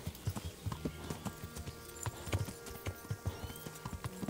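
Horse hooves clip-clop on a path in the medieval video game Kingdom Come: Deliverance, a quiet, steady walking rhythm of distinct hoof strikes with light tack sounds.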